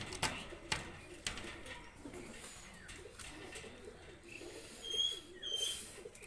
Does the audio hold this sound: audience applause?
no